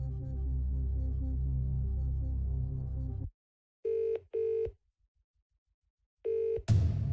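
A phone rings in the Who Wants to Be a Millionaire video game, with a long sustained tone followed by three short, evenly spaced electronic ring bursts separated by silence.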